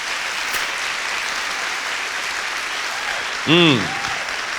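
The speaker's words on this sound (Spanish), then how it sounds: "tú le vas a dar ese aplauso de verdad" A church congregation applauds during a sermon on obedience, a continuous even roar of many hands. A voice calls out briefly near the end.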